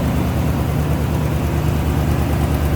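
A 1974 Mercedes-Benz 450 SL's fuel-injected 4.5-liter engine idles with the hood up, a steady low rumble with a faint rapid tick from the passenger-side exhaust manifold, heard close and alone.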